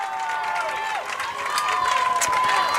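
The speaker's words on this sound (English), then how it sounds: "Their fans cheering them on." Bridgewater Eagles fans cheering at a college football game against Southern Virginia, a steady, dense crowd roar with whistles rising and falling, heard from some distance for a few seconds.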